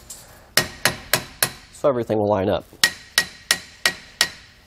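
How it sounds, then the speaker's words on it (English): A hammer lightly taps a brake caliper into its bracket during a disc brake conversion on a 2020 Jayco Pinnacle fifth-wheel trailer. About a dozen crisp, close taps come in even bursts, with a short spoken phrase partway through. "we just went ahead and took a hammer, just lightly tapped it the rest of the way into place"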